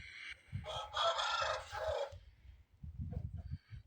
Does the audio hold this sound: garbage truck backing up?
no